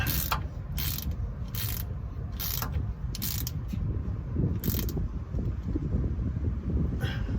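A ratchet wrench tightens the oil drain plug back into the pan of a GMT800 truck, working in quick repeated bursts of clicking close by, with no talking.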